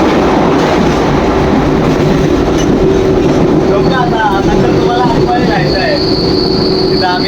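A train rumbles steadily past at a station with a sustained low drone and rattling, while high metallic squeals and chirps rise over it in the latter half.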